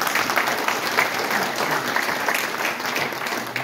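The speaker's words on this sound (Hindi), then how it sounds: "जोरदार तालियां होनी चाहिए" Loud applause from an audience at a seminar in Agra, many people clapping vigorously in a steady, dense roar that carries on without a break.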